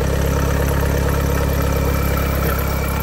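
A used Mercedes-Benz GLE 350d 4Matic diesel engine idles on a cold day, a steady, close, loud low hum with an even pulsing throb throughout.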